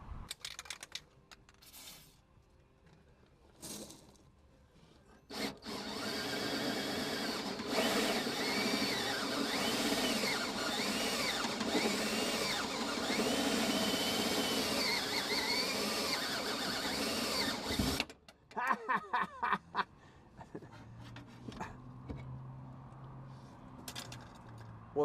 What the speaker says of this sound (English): So I'm holding the drill, and I've got a 36-inch clamp on it, and it seems to be working pretty well.